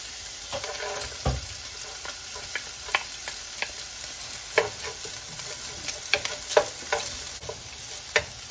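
Garlic sautés in a pan with a soft, continuous sizzle, punctuated by scattered clicks and taps of stirring against the pan, close and fairly quiet with no voices.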